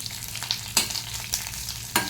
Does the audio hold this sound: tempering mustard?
yes